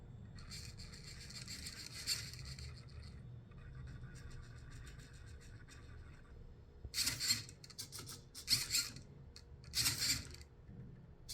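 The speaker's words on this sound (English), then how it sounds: "we click the run button and the Scara robot starts to make the sequence that we made" SCARA robot arm running its programmed motion sequence: sustained whirring motor hum for several seconds, then a series of louder buzzing bursts from servo movements, moderately close over background noise.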